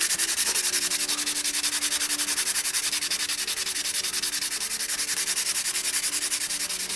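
Steady rhythmic sanding on a cyanoacrylate repair on a motorcycle fairing, a close, continuous abrasive rubbing with even strokes and no talking.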